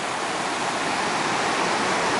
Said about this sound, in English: This is a typical high winter river here.